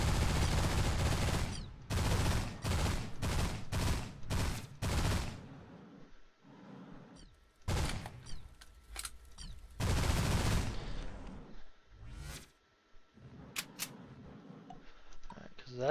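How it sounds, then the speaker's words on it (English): Plasma gun shots in the space game Destination Sol: a run of seven evenly spaced loud blasts, then scattered bursts and quieter blips, with someone talking over parts of it. "that's a plasma gun that he's using there"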